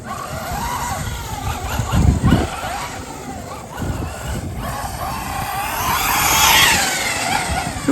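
4S electric RC car racing across a grassy field, high whining motor passes with rising and falling pitch and bursts of tire scrub, loud and close at moments, fading in between.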